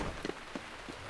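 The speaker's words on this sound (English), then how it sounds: "Look at all that rain." Rain pours steadily in Zelda: Breath of the Wild, a dense even hiss with a few heavier drops pattering on surfaces, no voices.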